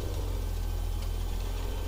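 A tractor engine in Farming Simulator 17 on the Estancia Lapacho map runs at a steady, loud, low droning idle while hitched to a drill, with a constant rumbling pulse and no talk.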